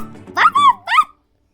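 A voice imitates a dog barking while reading a fable aloud: three quick, yelping 'woof' sounds with a rising and falling pitch, close and clear, followed by silence.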